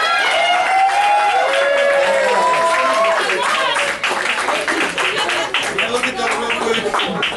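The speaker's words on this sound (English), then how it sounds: "Can I get a round of applause for our final contestant and all of our other contestants?" Applause for contestants at an awards night, a crowd clapping and cheering after an announcement, with voices talking over it.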